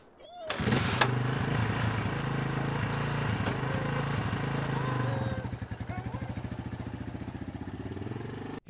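An engine, apparently a motorcycle, cranks and catches at once, then runs at a fairly loud, even pitch close by before dropping to a slower, pulsing idle.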